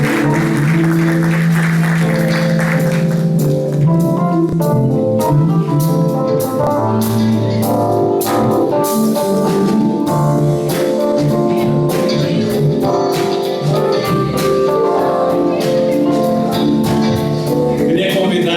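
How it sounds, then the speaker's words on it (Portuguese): Congregation applauding together during a church service, sustained clapping for the whole stretch over a busy mix of background music or voices, steady and fairly loud throughout. "Uma salva de palmas."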